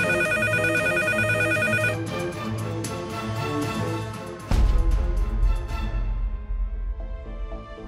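A telephone rings on and on unanswered, its bright electronic trill repeating steadily up close, then stops abruptly as a low thud and a brief musical swell follow.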